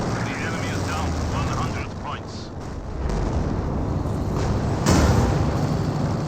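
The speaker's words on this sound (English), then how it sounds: "And a strafing run coming on in as well" Aircraft strafing run in the World War II strategy game Company of Heroes: a dense, continuous roar of gunfire and rumbling battle noise with a sharper burst near the end, heard under a commentator's voice.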